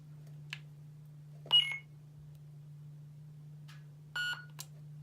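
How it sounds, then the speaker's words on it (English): Short electronic beeps from a custom lightsaber hilt sound in quick clusters over a steady low hum, with a couple of faint clicks between them. "you long press the button until you hear two beeps"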